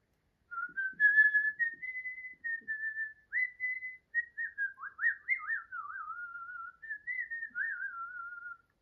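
Someone whistles a bright, warbling tune with trills and slides, steady and near, with no talking.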